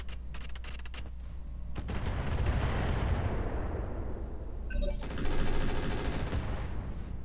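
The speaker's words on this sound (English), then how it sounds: "Jeez, man, that turret. Must be heavy machine guns." Heavy machine gun turret fire in the Roguetech mech combat game: dense, rolling bursts of rapid gunfire with booming impacts, sustained throughout and loud, with a sharper crackling stretch near the end.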